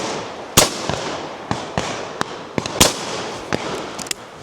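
Shotguns fire at high driven pheasants and partridges on an outdoor game shoot: a string of loud, sharp reports, some close and some more distant, at irregular intervals over a constant outdoor background.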